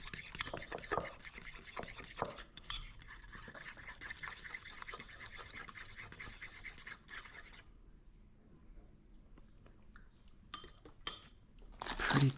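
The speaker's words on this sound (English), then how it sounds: "Stir that up" A utensil stirs garlic into a dish with steady, close, rasping scrapes for several seconds, then the sound drops to softer, sparser stirring.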